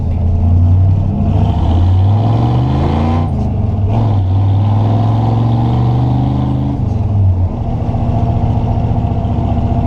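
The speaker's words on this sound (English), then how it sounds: "My truck is very loud" A loud, close truck engine with a three-on-the-tree column-shift manual gearbox revs and drops, its pitch climbing and falling as gears change, continuous throughout.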